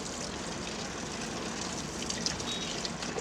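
Water gushes and splashes continuously as lemons are rinsed for homemade lemon pickle, a steady close running-water sound with light clinks, no one speaking.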